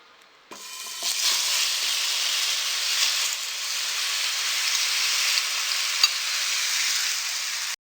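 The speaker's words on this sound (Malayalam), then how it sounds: "ഈ നെയ്യ് ഒഴിച്ചിട്ടുള്ളത് പഴം വാട്ടാൻ വേണ്ടിയിട്ടാണ്" Small pieces of ripe plantain sautéing in ghee in a pan, a steady close sizzle starting abruptly and continuing evenly with a few faint clicks of stirring, no voices.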